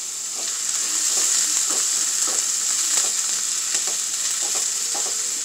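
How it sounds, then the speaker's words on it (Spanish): Onion sizzles as it fries in a pan, a steady close hiss broken by soft stirring clicks, with no voices. "Vamos a guisar primero la cebolla."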